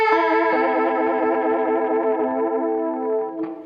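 An effects pedal sets a flanger on a sustained electric guitar chord. The ringing chord is loud and steady, its tone sweeping slowly for several seconds and then fading, with a faint pick scrape near the end.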